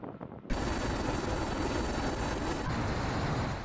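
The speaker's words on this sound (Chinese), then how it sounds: "十余架满载弹药的直升机按照战斗编组飞向数百公里外的战场" A group of more than ten armed military helicopters loaded with ammunition flies in combat formation, giving a steady, loud, broad engine and rotor roar that comes in abruptly and holds without voices.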